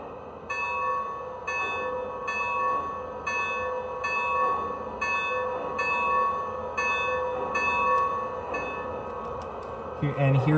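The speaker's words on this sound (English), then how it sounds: "All right, here's the bell." Bell of an American Flyer Mallet steam locomotive model train, ringing in a steady, evenly spaced series of about a dozen clear metallic strokes over a low background hum.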